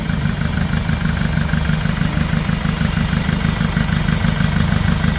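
A Hyundai D4CB car engine with an overheating fault runs at a steady idle, a close, even, low rhythmic chugging throughout.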